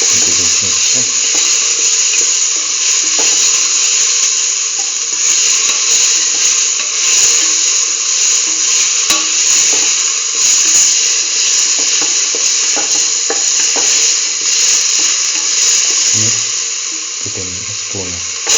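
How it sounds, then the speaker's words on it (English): Okra and previously sautéed shallots are stirred into a mixture in a pan, making a continuous sizzle with watery bubbling and intermittent scraping clicks of the spoon against the pan. "Now put in the okra and the shallots that we sauteed earlier into this mixture"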